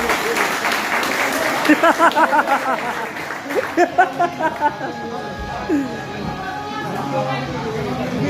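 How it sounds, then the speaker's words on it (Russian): A crowd at a fight event in Krasnoyarsk applauds the fighters with a burst of rhythmic clapping. An announcer speaks loudly over it, and the crowd chatters and murmurs as the applause fades. "Аплодировали бойца!"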